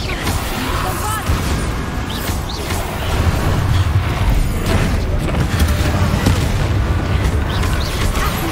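A Bombarda explosion spell goes off in Hogwarts Legacy as a loud, dense rumbling blast that swells after about three seconds and keeps roaring with crackling debris and low booms to the end.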